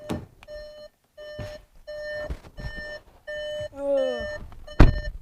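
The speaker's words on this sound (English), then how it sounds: "Let's now have some beeping" Repeated electronic chimes and beeps from inside a Volkswagen GTI, sounding in short evenly spaced bursts, with a rising and falling tone near the end and a brief thump at the close.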